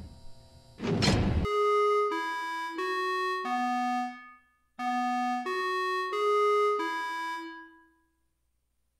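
Chiming bells from the video game FNAC ring out in two clear runs of sustained, descending tones, each strike ringing on before the next, after a short burst of noise, then fading to silence.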